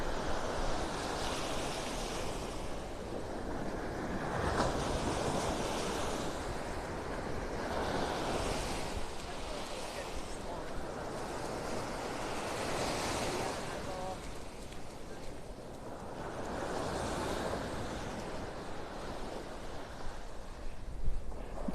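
Surf rolls onto a beach in North Naples, Florida on a morning walk, with waves breaking in slow repeating surges every few seconds, steady wash and some wind buffeting the phone microphone.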